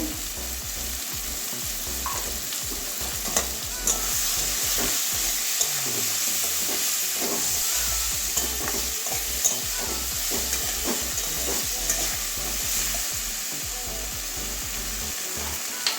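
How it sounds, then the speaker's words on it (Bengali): Pumpkin, potato and eggplant with drumstick greens, cumin powder and turmeric sautéing in a pan: a loud, continuous sizzle under quick, rhythmic spatula scrapes that run throughout. "একটু ভালো করে কষিয়ে নেবো"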